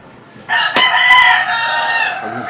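A rooster crows loudly and close by in one long drawn-out call, with a faint cluck near the end.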